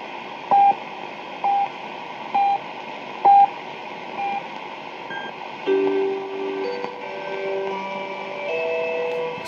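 Shortwave reception on a 1960s Philips Continental AC/DC valve radio: a row of evenly spaced short beeps, then wavering heterodyne tones and drifting whistles over a steady band of hiss.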